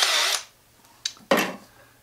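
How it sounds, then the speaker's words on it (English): A power drill runs in short bursts while making a DIY gravity water filter: a whirring spin for about half a second, a brief blip, then another burst that trails off, close and moderately loud. "So here I have a drill bit"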